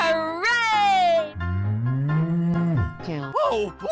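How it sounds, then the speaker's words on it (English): A cartoon cow lets out a long, low, drawn-out moo in a playful children's animal animation, following a brighter squeaky call and with a short rising yelp after it, loud and close. "Cow."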